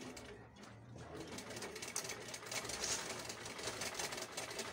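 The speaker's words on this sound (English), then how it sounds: "I'll top stitch it on with my sewing machine" Sewing machine top-stitching boning onto a gown, a continuous close mechanical whir with a rapid rhythmic needle chatter holding steady across the few seconds.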